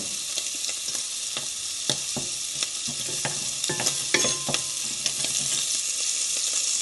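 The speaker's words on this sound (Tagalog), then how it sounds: "Itong kamatis, garlic, onion, halo-halo na ito mga lods para mabilis." Tomato, garlic and onion being sautéed with bacon in oil in a pan: a bright continuous sizzle with scattered spoon scrapes and stirring clicks, close and steady throughout, no voices.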